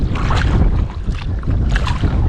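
Wind buffeting the microphone while paddling a kayak on Hunter Creek, loud rumbling gusts with rushing water, continuous and close.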